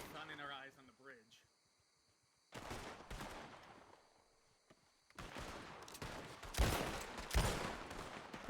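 Gunfire in the Red Dead Redemption 2 video game, bursts of shots in two loud clusters separated by a quiet gap, near and harsh, with a voice speaking briefly at the start.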